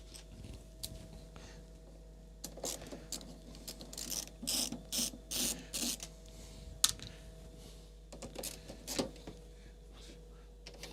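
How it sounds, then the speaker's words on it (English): Small screws being worked out of the back of an unidentified floppy drive, a quiet series of ticking ratchet-like clicks and scrapes in short bursts separated by pauses. "I see a couple of screws on the back. So we're going to try and take those out"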